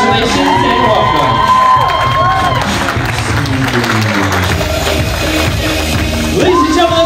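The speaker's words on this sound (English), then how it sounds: "Let's get one more big round of applause for your bridal party." Wedding guests at a reception loudly applaud and cheer for the bridal party, a dense, steady crowd roar with whoops and shouts lasting throughout, with some tonal sound woven in.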